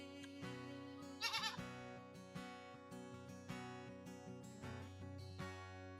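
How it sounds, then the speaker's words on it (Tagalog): Goats bleat in repeated wavering calls at a camp, several close and clear voices overlapping, with one sharp trembling cry standing out; no one talks. "Yung mga kambing."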